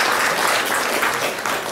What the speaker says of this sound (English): So let's give our Fiddlecats a round of applause.